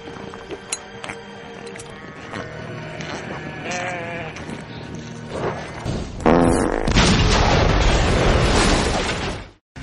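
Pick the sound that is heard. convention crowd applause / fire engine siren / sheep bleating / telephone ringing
sheep bleating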